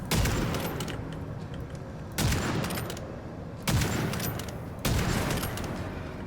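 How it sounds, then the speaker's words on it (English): Four heavy bolt-action rifle shots ring out in the game Witchfire, each a sharp loud blast about a second and a half apart, trailed by long rumbling reverberation and a steady background bed. "I could actually shoot that guy from long range with this bolt-action rifle"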